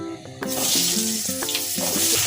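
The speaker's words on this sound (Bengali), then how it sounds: "তেলের ভিতরে আমি দিয়ে দিব এই ফুলকপিটি।" Cauliflower florets go into hot oil in a pan: a steady bright sizzle swells after a brief quieter start, with faint tonal background music running through the clip.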